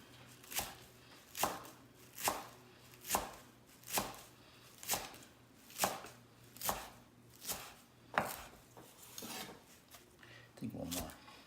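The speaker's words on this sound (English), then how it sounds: "we don't want to chop it up too fine. About a medium chop." Rhythmic knife chops on a cutting board as fresh cilantro gets a medium chop for Baja halibut fish tacos, about a dozen crisp evenly spaced strikes, close and clear with no talking.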